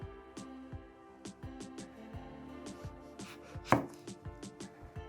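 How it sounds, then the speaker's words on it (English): Knife chopping eggplant into round slices on a cutting board, a steady series of crisp, close thuds with short pauses, one louder stroke near the end, no talk. "Cut eggplant in round shape"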